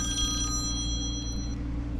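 A telephone bell rings with a thin, high, continuous trill over a steady low rumble at a patio building site. It sounds somewhat distant, with no talk.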